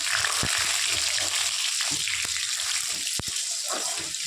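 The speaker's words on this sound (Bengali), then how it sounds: "এই যে ম্যারিনেট করা মাংস যেটা মেখে রেখেছিলাম সেটা এর মধ্যে এখন দিয়ে দিচ্ছি" Marinated meat goes into a hot pan for a home-cooked meat curry, giving a steady broadband sizzle throughout with a few sharp spits and crackles, close and fairly loud, no voices.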